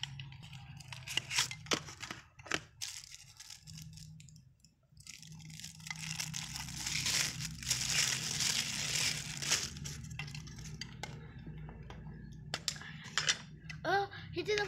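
Crinkling and rustling of plastic packaging being torn and opened by hand, close and fairly continuous with sharp crackles, while a person talks intermittently.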